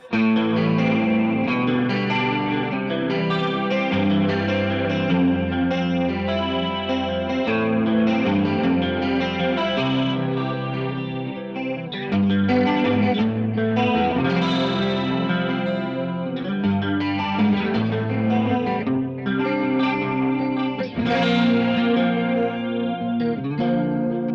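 Electric guitar through a GFI System Synesthesia dual modulator pedal, shimmering chorus modulation, chords ringing with a wavering, slightly overdriven tone, played alone and continuous.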